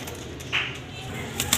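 Teddy pigeons coo softly and repeatedly in the background, with faint rustling nearby.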